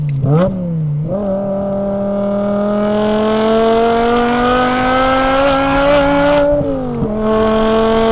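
A BMW E61 M5 Touring's naturally aspirated engine, a custom six-speed car, revs loud and steady, climbing in pitch toward redline with a brief dip partway before easing off near the end.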